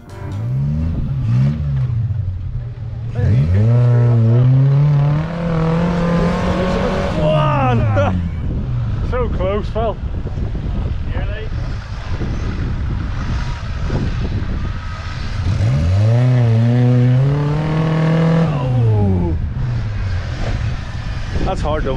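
A small Suzuki off-roader strains at an off-road club event, its engine revving hard in long rising and falling bursts as it fights to climb out, close and loud, with people talking over it.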